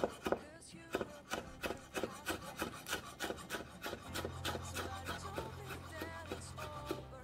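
A knife slices ingredients such as eggplant and ginger for kilawin on a wooden board, with quick, evenly repeated rubbing strokes up close; a low hum joins partway through.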